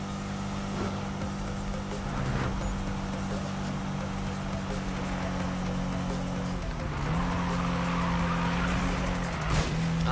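Car drifting in the video game Need for Speed 2015, a continuous engine drone with tire squeal and skidding as it slides, steady and loud with no speech.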